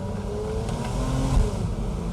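A 2011 Porsche Boxster S convertible engine revs up with a rising, throaty roar over a low steady rumble, swelling briefly near the end.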